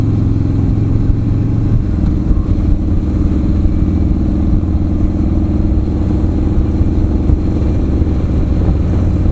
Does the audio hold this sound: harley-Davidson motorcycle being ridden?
yes